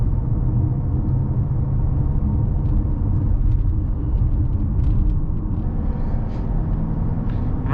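A 2020 Mercedes GLB SUV cruising on winding roads, with a steady low engine and road rumble and a constant drone of tyre noise inside the cabin, no talking.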